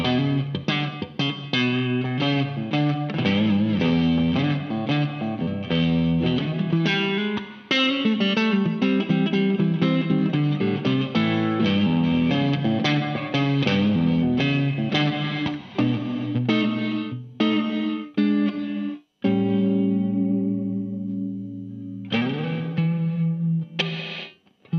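Crazy Tube Circuits Mirage reverb pedal in a gated, 80s-style mode with a quick cutoff, on a dense chord-based tone that swells and then chops off sharply. Near the end it thins out to a sustained low drone before a final burst.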